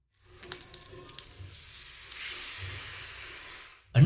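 Hot oil tempered with mustard seeds, white sesame and curry leaves is poured into handvo batter of bottle gourd and vegetables, giving a close, loud burst of sizzling that settles into a steady hiss for several seconds.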